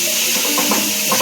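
Taro stolons (kochur loti) hitting a hot wok for a Bengali prawn dish, a steady broad sizzling hiss that stays loud and even throughout.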